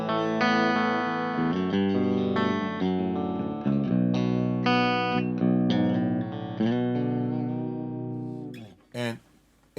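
Baritone guitar played clean through an amp with a Cosmic Tremolo pedal in the chain, sustained notes and chords ringing close and loud, ending in a brief gap and a couple of short plucks.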